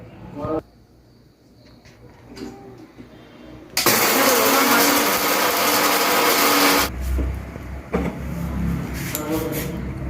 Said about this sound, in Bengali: আমার ওই ভাজা মশলাগুলো সব আমি এর মধ্যে নিয়ে নিয়েছি এটাকে এবারে আমি গুঁড়ো করে নেবো